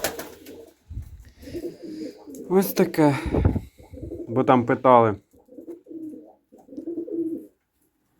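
Young pigeon chicks in freezing weather of about minus fourteen coo softly and repeatedly from close by. Someone speaks over and between the low, throaty calls.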